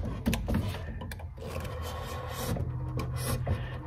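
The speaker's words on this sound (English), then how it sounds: "So I'm gonna cut along the line where the tenon should be going in." A hand saw cuts a groove along a marked tenon line in the wood of an old dresser under repair, a steady rasping stroke that runs continuously and fairly loud throughout, with no talking.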